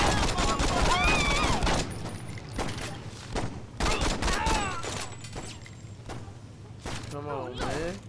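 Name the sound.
gunfire in the video game Saints Row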